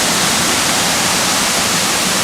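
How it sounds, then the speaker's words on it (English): Mohawk Falls, a 37-foot multi-tiered waterfall on a rugged Pennsylvania state park trail, roars as a steady, loud, broadband rush of falling water with no break or voices. "It is a 37-foot waterfall."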